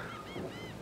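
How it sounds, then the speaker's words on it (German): A battle goose in the Knights & Bikes co-op video game gives a short, nasal cartoon honk in two quick rising bursts over a steady, soft ambient bed. "das ist meine Kampfgans."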